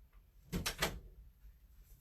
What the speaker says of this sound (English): Let me close my crafty room door.